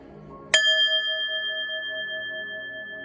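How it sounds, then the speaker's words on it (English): A single bell is struck once, with a sharp attack, and its clear ringing tone hangs on and slowly fades across the rest of the moment. It is heard alone with no voices, in a quiet indoor setting. "I'm gonna ring the bell, catch these downloads"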